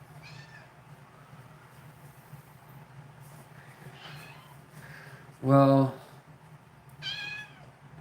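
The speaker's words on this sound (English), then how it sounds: "Sorry, the cat's meowing." A pet cat meows indoors, with a few soft cries early on, then one loud, close, drawn-out meow and a shorter one after it, while a person speaks briefly over a low steady hum.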